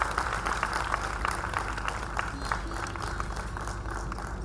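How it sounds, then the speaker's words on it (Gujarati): An audience at a Gujarati literary lecture applauds to welcome the speaker to the stage, a steady, dense clapping that holds evenly throughout, with no speech. "તાળીઓ વાગવી જોઈએ, રોકાવી ના જોઈએ."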